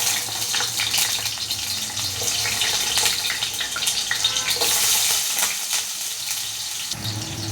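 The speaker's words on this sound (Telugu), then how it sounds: "ఆలు ముక్కల్ని ఆయిల్లో కొంచెం ఫ్రై చేయాలండి" Potato pieces fry in hot oil in a pan for a curry, giving a continuous loud crackling sizzle with bright spattering pops throughout and no voices.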